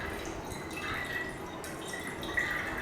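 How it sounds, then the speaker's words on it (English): Water trickling and dripping from glassware during a separation of water and petrol in a school chemistry demonstration, a faint steady flow under room hiss. "So allow the water to flow."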